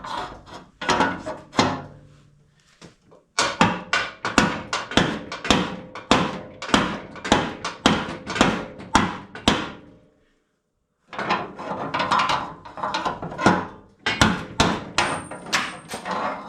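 A pry bar is worked against a part on a Vespa Rally 200 scooter, giving loud, rapid, repeated metallic knocks in bursts, close by, with short pauses between runs.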